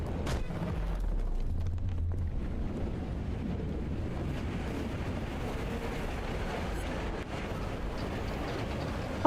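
A long train passing by in the video game DARQ: a continuous heavy rumble and rolling roar that holds steady for the whole stretch with no talk over it.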